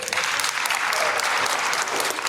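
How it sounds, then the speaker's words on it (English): Steady, loud applause and clapping from an audience at a talk, a dense continuous wash of many hands throughout with no gaps. "Make sure you clap."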